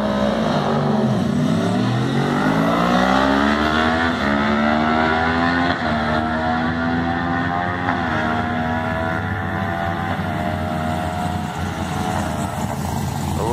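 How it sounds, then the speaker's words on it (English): Two sport bikes race down a drag strip at Great Lakes Dragway, their engines screaming loud and close as the pitch climbs steadily through the gears in one continuous high-revving roar. "2 sport bikes, I think an R6 and maybe possibly another R6"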